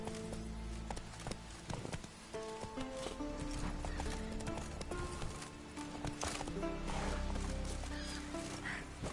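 Horse hooves clip-clopping at a quick, steady gait, with occasional whinnies and a rider's voice urging it on, all fairly close and moderately loud.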